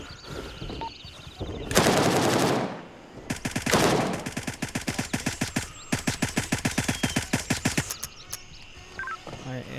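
Machine gun fire in the game Gray Zone Warfare rips out in several loud bursts, including long rapid rattling strings of shots, close and dominant with almost no talk.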